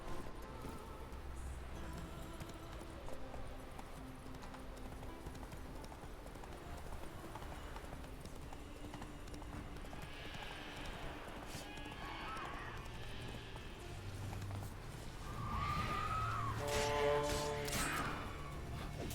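Horse hooves clip-clop steadily along a road in The Witcher 3, an even trotting rhythm under a continuous game soundscape, with a brief whinny and louder hoof bursts near the end.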